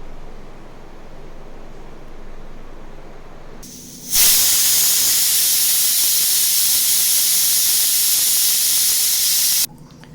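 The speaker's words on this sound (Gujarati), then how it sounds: "હવે આપણે કુકરને બંધ કરીને 4 થી 5 વિસલ વગાડશું." A low background hum gives way to a loud, steady hiss of steam shooting from a pressure cooker whistle while cooking khichdi for several seconds, then cutting off abruptly.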